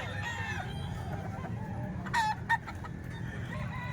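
Butcher-breed chickens cluck steadily nearby, and a louder crowing outburst rises in two quick bursts midway before the clucking carries on.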